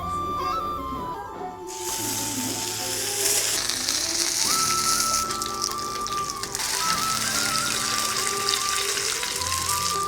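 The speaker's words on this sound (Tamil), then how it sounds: "கொஞ்சம் நிறையவே எண்ணெய் ஊற்றிக்கோங்க." Cooking oil hitting a hot stone for frying fish village-style, a loud continuous sizzle and crackle close up that swells after the first seconds and holds steady, with no voices.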